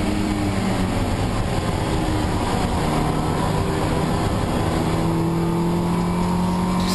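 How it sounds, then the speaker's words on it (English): Toyota MR2 race cars in the 750 Motor Club championship roar around the Brands Hatch circuit, their engines droning loud and continuous with rising and falling pitch as several cars pass close together. "Great watching these MR2s fight their way around Brands Hatch."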